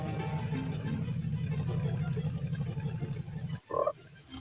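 A frog in a 1992 horror video game croaks in a steady low, rapid pulsing drone, then a brief louder, higher croak near the end, with no talk over it.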